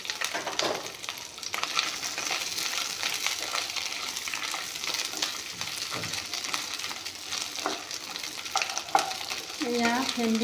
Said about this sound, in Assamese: এয়া ভেন্দি ভাজি আছোঁ